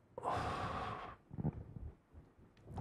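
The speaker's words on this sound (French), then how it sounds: "Une respiration." One audible breath, a long hissing exhale lasting about a second, followed by softer, quieter breathing sounds, close and intimate with no speech.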